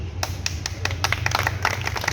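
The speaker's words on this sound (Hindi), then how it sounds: "तालियां तालियां।" A small audience at a party outreach meeting claps in a loose, uneven patter of sharp hand claps over a low hum, moderately close.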